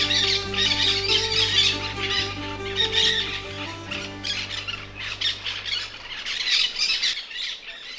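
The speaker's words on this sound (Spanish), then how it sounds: "Una colonia de pericos animó el camino con su canto." A colony of parakeets squawks loudly in a Colima jungle canyon, dense overlapping harsh calls filling the air throughout, with a steady low hum underneath that fades near the end.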